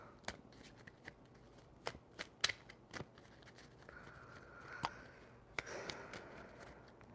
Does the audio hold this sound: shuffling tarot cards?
yes